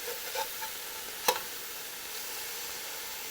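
Thin-cut beef for beef stroganoff browns in a hot pan with a steady, soft sizzle, broken by one sharp clatter as the pieces are flipped over, then settling back into a quiet fry.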